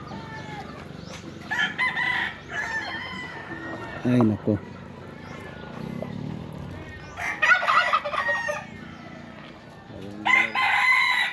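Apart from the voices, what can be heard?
rooster crowing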